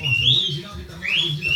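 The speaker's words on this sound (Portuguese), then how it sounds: "Os periquitos só tá piu, piu." Parakeets give two short rising chirps, high and fairly close, with a low indoor hum underneath and no talking.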